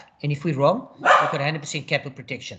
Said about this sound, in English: please excuse the barking if you hear that.